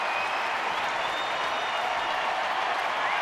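A baseball stadium crowd at a night game between Los Angeles and Arizona claps and cheers in a steady, dense wash of applause that holds throughout without speech.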